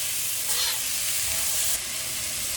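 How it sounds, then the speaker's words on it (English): Onions frying in a wok over a high flame for spicy Malaysian eggplant and tofu, a dense, loud, steady hiss and sizzle heard up close throughout, without speech. "We want to fry the onions till it's almost soft, not too soft."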